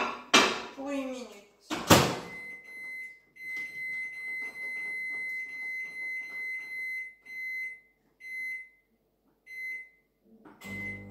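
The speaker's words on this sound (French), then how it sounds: "Donc, on va le mettre 8 minutes au micro-ondes." A microwave oven runs while cooking a gluten-free banana cake, giving a steady pulsing electrical hum that thins into sparser bursts toward the end. A voice speaks at the start, a door-like clunk follows, and a short noise closes the clip.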